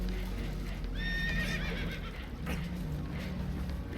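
Spooked horses whinny in a rapid, wavering neigh within a video game, loud over a steady rumble of rushing water, with hoof clip-clop alongside as a boat takes on water.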